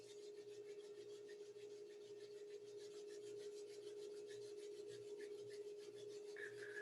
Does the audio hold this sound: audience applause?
no